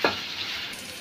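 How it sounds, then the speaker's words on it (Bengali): Cumin and coriander paste fries in hot oil for a chickpea dish, a brief close sizzle that bursts sharply at the start and then settles into a steady crackle. "দিয়ে দেব আধা চামচ জিরা ধনিয়া বাটা, একটু ভাজা ভাজা করে নিই"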